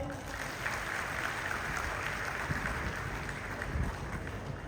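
Audience applause at a business speech in Katni, a continuous even roar of clapping, somewhat muffled and noisy, with no voices standing out.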